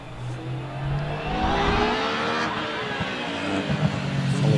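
Hillclimb race car accelerating hard out of a corner at Harewood, its engine note rising and sustained, fairly close and steady for several seconds with no talk.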